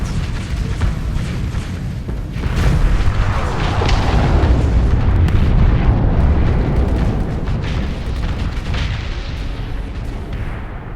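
Gunfire from a train in a video game, a dense continuous barrage of booming shots and blasts that swells louder in the middle and stays loud throughout, with no talking.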